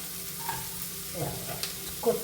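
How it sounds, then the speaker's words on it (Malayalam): Grated coconut and soya chunk masala frying in coconut oil, a soft steady sizzle with a few stirring scrapes, close and fairly quiet, no talking. "ഇതാണ് നാളികേരവും ഈ വെളിച്ചെണ്ണയ്ക്ക് കിടന്നൊന്ന് വറവായിക്കോട്ടെ"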